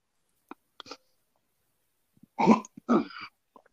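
A person coughs in a short fit: a few small throat sounds, then two strong, harsh bursts close to the microphone, with quiet gaps between them.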